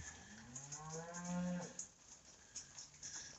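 A cow gives a single low moo at close range on a farm during feeding time, fairly faint, with some background noise and no talk.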